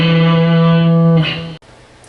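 Distorted electric guitar lead line from a country-rock solo, a single sustained overdriven note ringing loud and alone before cutting off abruptly.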